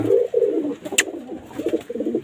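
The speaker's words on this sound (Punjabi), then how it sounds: "ਉਹ ਆ ਗਿਆ ਨੀਲਾ ਕਬੂਤਰ" Pigeons coo in low, repeated throaty phrases near a loft where a blue pigeon lands, with a brief sharp chirp in the middle and steady rumbling coos continuing alone.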